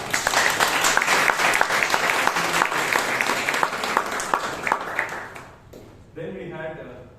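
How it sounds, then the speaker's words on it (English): Audience applause at a Toastmasters meeting in Bangalore, dense steady clapping from a room full of people lasting several seconds before fading out, followed by a brief burst of other room sound. "Big round of applause to both Nitesh and Toastmasters."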